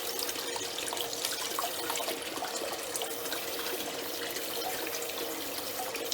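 Water runs steadily from a tap while a rock tumbler barrel used for cleaning dirty coins is rinsed out, a continuous close splashing hiss with no voices.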